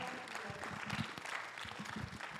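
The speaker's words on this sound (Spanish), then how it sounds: "Dele un aplauso fuerte al Señor." A church congregation claps for the Lord, a sustained burst of loud, dense applause from a crowd filling the whole moment.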